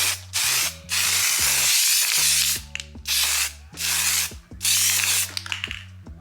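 Spray paint hisses onto a denim jacket in about five short, close bursts, each separated by brief pauses filled with low mechanical rattling and handling noise.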